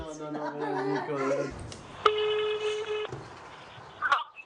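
A telephone call is placed: a steady dialing or ringing tone sounds for about a second after a stretch of talk, followed by a brief electronic chirp, with voices present.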